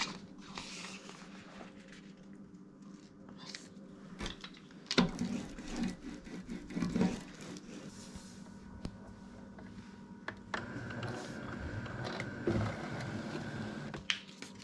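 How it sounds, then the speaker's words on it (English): A Cricut machine cuts vinyl on its mat, with a mechanical whir, shifting clicks and short bursts of motor movement, close by, ending in a steadier sustained whine. "we're going to go ahead and put this on our Cricut mat and then put it in our Cricut"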